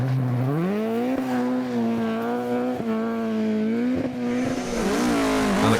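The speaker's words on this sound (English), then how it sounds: "the pristine Mark II Escort of local driver Dylan Donoghue, backed by event sponsor Corrib Oil, had a big off on stage 2" A Mark II Ford Escort rally car on a stage of a Galway international rally, its engine revving hard and steady through the gears, loud and close with rising and falling pitch and no talk.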